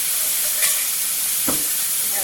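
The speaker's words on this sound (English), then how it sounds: "Yeah, that's sizzling real nicely." Chickpeas from a can sizzle steadily in a frying pan over browned ingredients, a continuous close hiss with a brief stir around the middle.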